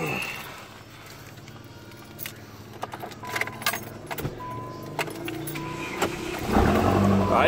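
A Spirit RT94 engine cranks with a jangle of keys, stuttering for several seconds before catching and starting loudly near the end, close up; the car had been hard to start.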